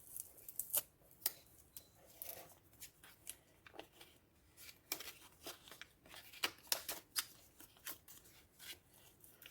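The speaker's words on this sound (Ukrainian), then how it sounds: "Відкриваю цей пакетик ось так." Repeated sharp crinkling and tearing of a paper packet, a series of brief rustles and rips close by, with no voices.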